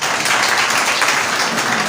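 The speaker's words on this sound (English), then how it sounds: "Please a round of applause to this wonderful speaker" Audience applause for a speaker at the first Zamfara Youth Security and Peace Summit 2022, a dense, loud, steady roar of many clapping hands throughout.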